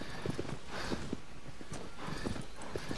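Horse hooves clip-clop at a steady walking pace on hard ground in the video game Shadow of the Colossus, soft and fairly quiet against a faint ambient background.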